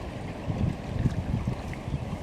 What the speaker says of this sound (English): It's just getting way too windy.